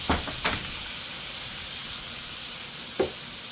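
Garlic sizzles in a hot pan at a low, steady hiss, with a few soft clatters near the start and one brief knock toward the end.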